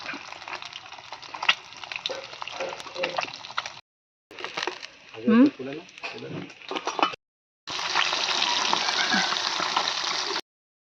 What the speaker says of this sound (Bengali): এখন হচ্ছে মাছ ভাজা।